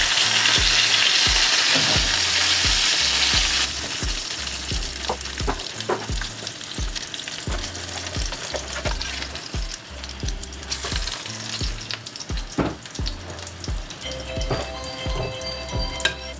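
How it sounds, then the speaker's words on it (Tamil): Fish fry in hot oil in a pan, a loud, steady sizzle with crackling pops and occasional clinks of a utensil turning the pieces. "இப்படியே எல்லா மீனையும் பொரிச்செடுக்கிறேன்."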